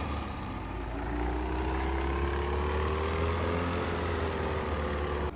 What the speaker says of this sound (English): This thing will be loud when I start it up first, but I will sort out the audio when we're actually in the water.